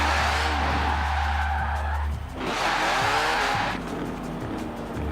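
A car in Forza Horizon 4 revs hard and skids, its engine climbing in pitch through repeated rising sweeps while tires squeal loudly, with a brief dip before the revving surges again, close and dominant.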